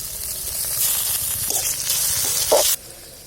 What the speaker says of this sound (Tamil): வெங்காயம் தக்காளியோட இந்த கோவக்காய் கட் பண்ணி வச்சுருக்கிறது எண்ணெயிலே வேகணும்.